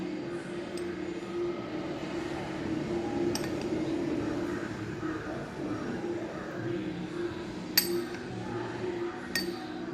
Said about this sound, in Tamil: ஸோ இப்போ நான் இதை வந்து கட் பண்ணி காணிக்கிறேன்.